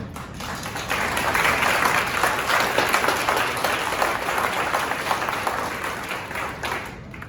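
An audience at a benefit event at the Yale Club in New York bursts into sustained applause that swells, holds strongly for several seconds, then tapers off. No one speaks.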